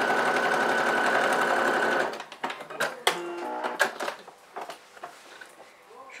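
Sewing machine stitching a faux leather pouch, running in one steady loud burst for about two seconds, then stopping; handling clatter and light fabric movement follow.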